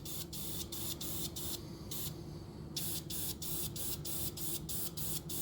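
An airbrush sprays thinned paint onto a model of the Russian Navy Project 955 Dolgoruky submarine, a steady close hiss under a constant compressor hum, broken into short rhythmic bursts as the trigger is pulsed.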